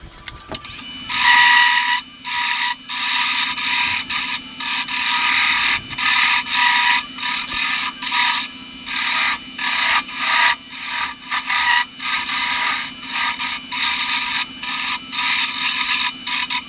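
A hand file or rasp shapes a wooden grip for a collapsible catch pole, cutting in finger grips. Steady repeated rasping strokes sound close and loud in a regular back-and-forth rhythm, with no talking.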